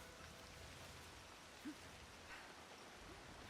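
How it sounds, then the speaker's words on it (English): Steady rainfall in Assassin's Creed Shadows, a soft, even wash of rain noise with faint drops, continuous and fairly quiet throughout. "It is very rainy."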